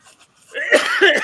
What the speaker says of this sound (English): As I choke to death on this cough drop.